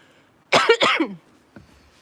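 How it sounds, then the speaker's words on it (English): Two sharp, harsh coughs close to the listener in quick succession, followed by a brief faint sound and quiet. "I'm still dying with a cough."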